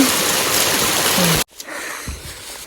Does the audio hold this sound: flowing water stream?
yes